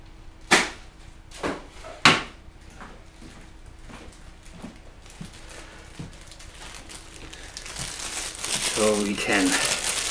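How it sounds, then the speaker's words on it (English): A plastic bag is handled and crinkled in a few sharp bursts near the start, then softer rustling and shuffling continue, with a denser crackling flurry toward the end. "I will get a plastic bag for this one."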